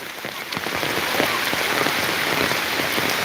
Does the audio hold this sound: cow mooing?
no